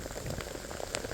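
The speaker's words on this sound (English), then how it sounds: "I'm getting hailed on." Hail and rain fall on a hiker on a trail, a faint, dense patter of drops and small pellets striking surfaces and gear, steady with scattered sharper hits.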